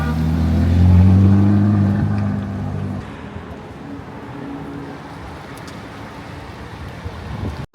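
Formula One cars crawl almost to a stop through the Monaco hairpin. A loud, droning engine note holds for a few seconds, then fades into a rougher outdoor rumble with wind.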